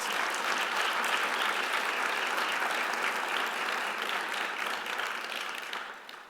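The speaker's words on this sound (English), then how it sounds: "And a round of applause for our special guests, all of you that are here tonight" Audience at a global engagement awards gala applauds special guests, a dense, sustained wash of clapping from a large crowd that holds steady before tapering off at the end.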